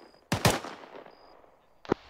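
Gunfire in Arma 3, a quick close pair of sharp loud shots followed by a quieter tail, then another single crack shortly after, over faint background game ambience.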